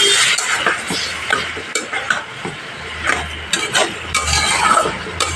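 A curry of katla fish with ridge gourd and potato being fried and stirred in a pan, with loud, uneven scraping stirs and clinks over a constant sizzle, and no speech.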